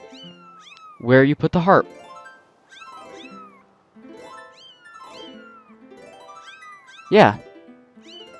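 Cats in the Skyward Sword game give a loud drawn-out meow and later a short second one, over soft harp-like game music while a person talks.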